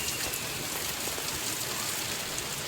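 Heavy rain pours steadily during a storm, a dense, continuous broadband hiss of drops hitting surfaces, loud and unbroken with no voices.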